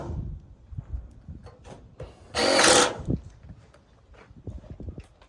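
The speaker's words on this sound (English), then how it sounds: "And then I add a bunch of screws here." A power drill drives screws into a rain gutter corner in one loud, steady whir lasting about half a second. Quieter handling knocks and taps come before and after it.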